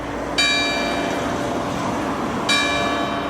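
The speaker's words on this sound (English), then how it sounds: "let the bell ring." Two resonant strikes of a village bell in Lagrave, France, marking the hour, about two seconds apart, each ringing out and slowly fading over a steady low background hum.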